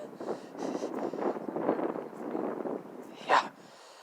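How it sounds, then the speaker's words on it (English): Wind gusting across an open pond outdoors, a steady low rumbling buffet against the microphone throughout, with a brief louder knock near the end. "The wind's blowing across the pond right at me"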